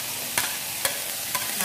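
Chili added to vegetables frying in a pan, a steady hiss of sizzling oil broken by three or four brief scraping stirs, close and moderately loud, with no talking.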